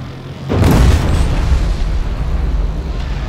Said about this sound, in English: that was one of those giant canister bombs